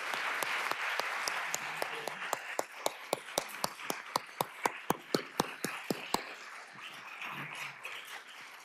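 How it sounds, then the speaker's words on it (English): A room of forum attendees applauds the panelists at a women's forum, with dense clapping that then thins into a few sharp, slow, evenly spaced claps, trailing off near the end. "I'd like to ask you to say a good round of applause to our panelists"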